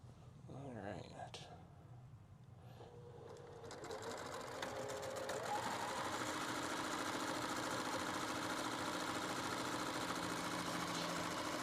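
Sewing machine stitching a curved seam on a fabric ball, starting in short bursts and then running at a steady, close, whirring hum, with people talking over the start.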